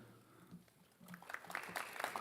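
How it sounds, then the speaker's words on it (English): An audience at a high school National Honor Society induction ceremony claps for the inducted students. The applause is faint and distant, starting scattered and building into steadier clapping. "clapping every single one"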